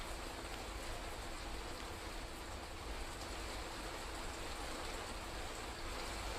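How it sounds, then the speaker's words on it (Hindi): Heavy rain falls in the Uttar Pradesh cities of Kanpur and Lucknow, a steady, faint, even hiss of downpour throughout with no voices. "उत्तर प्रदेश के 2 मुख्य शहर जहाँ पर झमाझम बारिश हुई"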